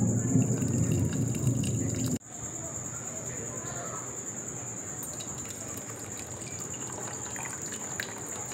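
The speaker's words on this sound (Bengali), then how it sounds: "এবার দেখো আমি ছেঁকে নেব।" Milk curdled with lemon juice for homemade paneer is strained, giving a steady, close liquid trickle and splash that begins loudly and then settles into a continuous flow.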